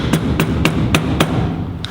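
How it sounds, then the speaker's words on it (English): A hammer strikes metal garden trowel pieces five times in a steady rhythm, each hit a sharp ringing tap, close and fairly loud over a low background hum. "If you're not strong enough, you can use a bit of pressure with your hands and hit it with a hammer"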